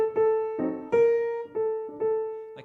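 Piano notes played softly to mimic a trumpet line with a ghosted, half-sounded note, a few separate sustained tones and short repeated attacks, close and alone.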